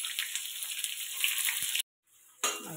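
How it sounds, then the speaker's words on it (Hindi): Chopped onion frying in hot tempering oil with garam masala, cumin and green chilli, giving a dense, steady sizzle that cuts out briefly near the end and then resumes. "प्याज को अच्छे से ब्राउन कर लेंगे"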